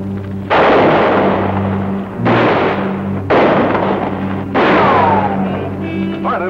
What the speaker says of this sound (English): Stop firing, Graham.